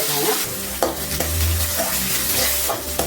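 Chopped onions sauté in hot oil with mustard seeds and curry leaves for sambar, with a steady sizzle, while a spoon scrapes and stirs the pan several times.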